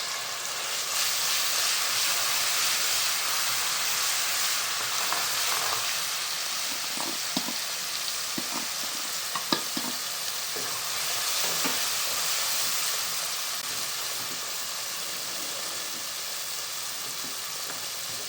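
Masala spices frying in a hot pan while cooking palva beans, a steady bright sizzle and hiss throughout with scattered soft scraping and stirring clicks, no talking.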